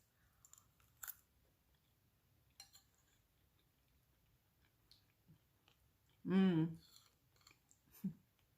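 Someone chews chili beans and corn bread, with faint scattered clicks and bites and one louder crunchy burst near the end, quiet and close with little else around.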